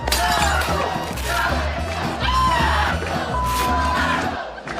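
A wrestling crowd cheers and yells continuously, a dense roar of many voices with whoops and shouts rising and falling throughout.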